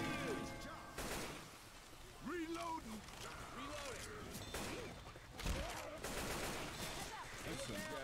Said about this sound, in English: there's an LMG in this game